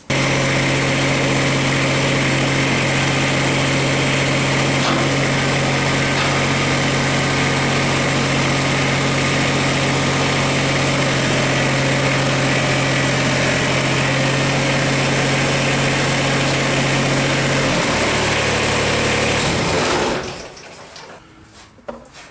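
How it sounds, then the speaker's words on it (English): Kubota BX-24 compact tractor with its loader hydraulics working, a loud, steady engine drone with a constant low hum that drops away near the end, leaving near silence. "by operating the hydraulics, I should be able to get the loader to come out of the cradle"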